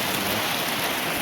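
Steady morning rain falls on a shelter during a fishing trip in strong wind, a dense, even hiss filling the short stretch with no voices or other sounds over it.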